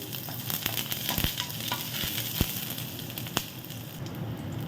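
Mustard seeds and garlic frying in hot oil in a pan, a steady close sizzle with scattered sharp pops and crackles as the seeds burst.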